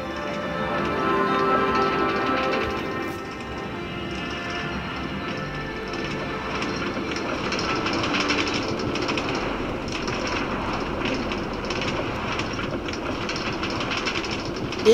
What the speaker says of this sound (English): This is a Brooklyn Bound A Express train.